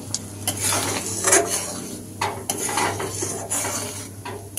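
Sugar being added to simmering moong dal with curry leaves in a pot, heard as sharp metallic spoon clinks and scrapes against the pot, a few distinct knocks spread across the clip, with no speech.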